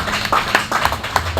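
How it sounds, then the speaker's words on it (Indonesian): An audience claps briefly in a quick burst of scattered hand claps. "Tepuk tangan untuk Pak."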